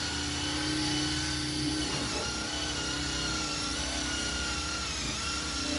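A small buffer used for headlight restoration runs continuously, a steady close whirring whine with a dense motor hum and no pauses.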